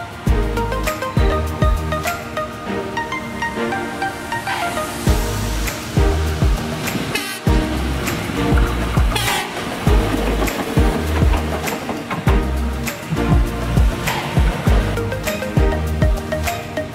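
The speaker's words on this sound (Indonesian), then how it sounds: "kereta api ukur jalan rel dan LAA atau KUJRL kembali beraksi" Track and overhead line measuring train (KUJRL) passing near Surakarta, loud rumbling wheels with rhythmic clacks over rail joints and metallic rattling for the whole stretch, close by; the horn is not clearly picked out.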